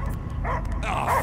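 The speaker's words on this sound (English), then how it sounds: "I hear only barking" A dog barks and yips in the Guardians of the Galaxy video game, two short sharp bursts over a low rumbling background.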